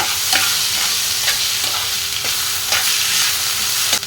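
Onions, green chilies and ginger garlic paste frying in a pan, giving a steady loud sizzle with occasional scraping stirs throughout.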